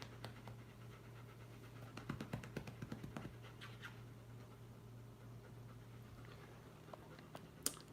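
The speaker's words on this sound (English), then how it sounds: "My puppy dog." A dog pants quietly indoors, with a short burst of quick rhythmic breaths in the middle and a few faint scratches, all soft against a low steady hum, with no talking.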